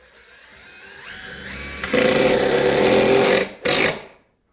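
A Milwaukee M18 Fuel Surge hydraulic impact driver whirs up and drives a screw into plywood, a rising mechanical hum that stops, then a short final burst, close by.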